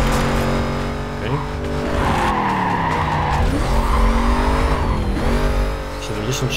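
Mitsubishi Lancer Evolution 9 racing in Need for Speed Carbon: a loud, steady engine drone with rising and falling revs, tire squeals and skidding, and a voice talking over it.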